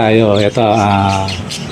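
Caged birds offered for sale let out two loud, harsh, drawn-out squawks close by, split by a brief gap, with the second call trailing off into fainter chatter.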